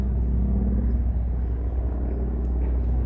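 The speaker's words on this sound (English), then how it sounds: "Now there's a plane." Airplane passing overhead outdoors, a low continuous rumble with a faint car mixed in, steady and moderately distant, no voices.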